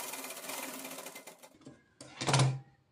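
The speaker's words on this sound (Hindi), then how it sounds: "इसे इस तरह से फोल्ड करेंगे और यहाँ पे हम सिलाई लगा लेंगे।" A sewing machine stitches the folded button placket of a small child's Pathani kurta, with a steady close whirr for about a second and a half, a brief pause, then a short louder burst of stitching.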